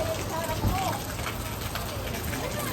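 Steady rain falling outdoors, a dense even patter on surfaces close by, with a soft thump partway through.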